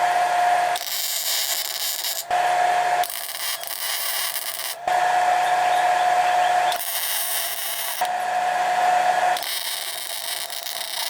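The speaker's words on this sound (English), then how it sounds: "This is just to catch any slag since I'm gonna be welding with a MIG gun." MIG welding on a foil-wrapped Toyota Hilux drift truck differential: a loud, steady crackling buzz in several bursts of one to two seconds each, separated by brief pauses, with no talking.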